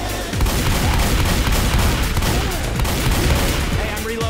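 Gunfire and explosions in a video game, a dense rapid burst of shots and booming blasts packed close together throughout, loud and continuous, with players talking over the action.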